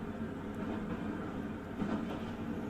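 Steady low rumble of a moving train carriage in an audio drama set aboard a train, a quiet continuous drone with no voices.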